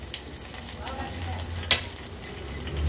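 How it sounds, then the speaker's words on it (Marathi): Asafoetida goes into a ghee tempering of mustard seeds, cumin, garlic, chilies and curry leaves, giving a steady sizzle with a metal spoon clink and occasional scraping, close and alone. "आता ह्या फोडणीमध्ये थोडंसं हिंग घालते"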